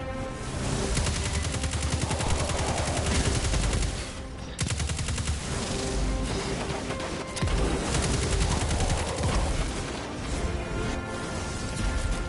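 Rapid automatic weapon fire in Destiny 2 on PS4, heard as loud, dense bursts of shots with only brief pauses between them, close and dominant, with no talking.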